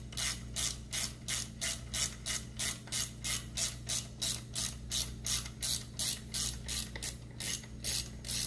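A ratchet tightens a bolt on a Porsche Boxster 986 engine during a rebuild, giving rapid rhythmic clicking bursts with each swing, about two per second, close and alone over a faint hum.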